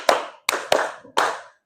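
Group of people clapping in a counted classroom pattern, four sharp, close hand claps in uneven rhythm, each with a short room decay, no talk over them.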